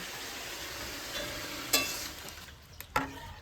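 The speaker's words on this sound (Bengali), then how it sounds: "এখন আবার কিছুক্ষণ এরকমভাবে কষাবো তারপরে দেব মশলা" Mutton with salt and turmeric sautés in a pan, a soft steady sizzle with a few scraping stirs and utensil knocks near the end.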